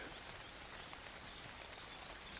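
Steady, faint rain in the survival video game Ark forms a soft, even hiss of drops with no letup, ending in a brief low thump.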